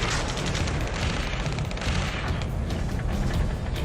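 Dense, unbroken barrage of gunfire and booming explosions from the video game Ace Combat 7 Skies Unknown, loud and continuous throughout with no pauses.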